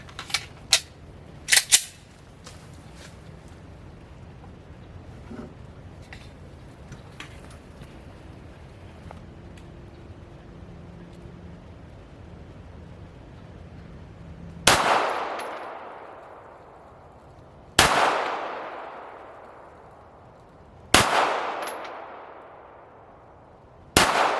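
Three loud, separate pistol shots from an FN FNS9 fired over a chronograph ring out sharply, each decaying quickly, after a stretch of quiet handling noise and a few small clicks.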